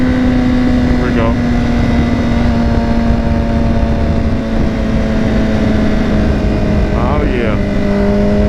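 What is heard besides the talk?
motorcycle engine on a test ride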